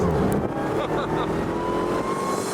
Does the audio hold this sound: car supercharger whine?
yes